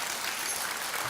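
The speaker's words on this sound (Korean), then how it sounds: "큰 박수 주세요" Dense, steady applause from a concert audience at a children's composition recital, many hands clapping together in a brief, even burst.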